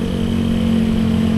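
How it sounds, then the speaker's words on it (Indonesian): Motorcycles with loud aftermarket exhausts at a crowded hillside spot in Puncak, Bogor, producing a continuous, close, droning engine roar with a strong low hum and no pauses. "knalpot brong ya."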